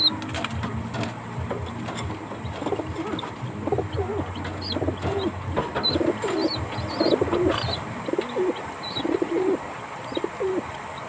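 Young pigeon squabs, still missing neck feathers, give soft irregular coos and murmurs in a loft while being fitted with clip leg rings, with low handling rustle early on.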